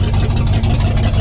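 The 351 V8 of a 1973 Ford Ranchero GT with a factory four-speed runs loudly up close, a heavy, rough, rattling low rumble without exhaust, brief and steady.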